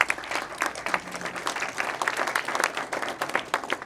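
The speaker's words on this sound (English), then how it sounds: "Please give a round of applause." Audience applause at a Venture NY 2026 investor panel event, honoring sponsors: a steady, dense wash of many hands clapping throughout, moderately loud and continuous with no talk over it.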